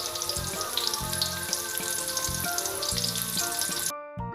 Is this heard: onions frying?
yes